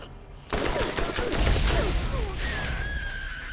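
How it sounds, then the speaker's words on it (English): Gunfire from a firefight in the video game Borderlands 1, a burst of loud, dense shots kicking in after a short quiet start and rolling on with crashing impacts and a rising electronic whine near the end. "Okay, I heard shots."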